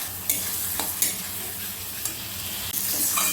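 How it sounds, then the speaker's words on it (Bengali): Spice paste with turmeric being sautéed in a pan for desi chicken curry: a steady, loud sizzle with a few scraping stirs and spatula knocks against the pan. "দিয়ে সব কিছুকে খুব ভালো করে মিশিয়ে নেব, মানে একটু কষে নিতে হবে মশলাটাকে"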